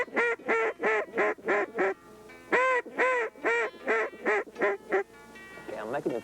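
Squealing duck call blown to imitate hen ducks, a loud close run of rapid quacks in two rhythmic bursts, followed by a brief voice at the end.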